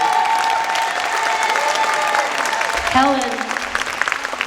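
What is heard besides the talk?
audience applause for Helen Kim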